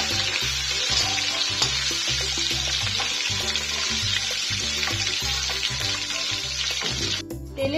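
Prawns fry in a little oil, a steady dense sizzle running throughout at close range with no talk, briefly thinning near the end.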